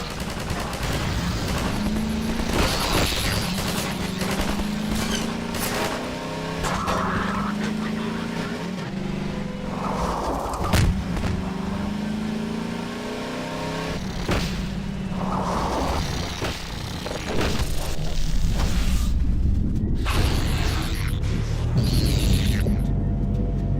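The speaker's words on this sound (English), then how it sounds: "Just listen to how a Combine soldier's gunshots change as you drive towards them." In the Half-Life 2 video game, bursts of Combine soldier gunfire crack repeatedly while the buggy's engine drones along underneath, shots sharp and frequent over the vehicle rumble.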